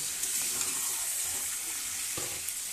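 Potatoes and capsicum fry in a pan while being stirred, giving a steady soft sizzle with faint scraping throughout and a small clatter right at the end.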